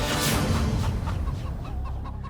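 A hen clucks in a run of short, repeated calls, fairly close and loud over a dense, noisy low background, with no voices.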